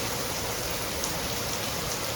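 Heavy rain pours down steadily in Montepulciano, Tuscany, a dense, even hiss of drops on surfaces that never lets up, close and loud with no voices over it.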